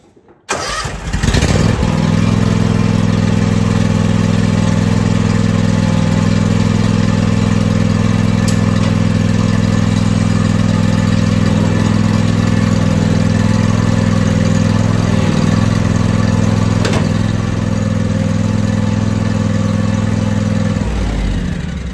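John Deere X350 lawn tractor engine running loud and steady at close range after a brief start, holding an even drone for about twenty seconds with no talking.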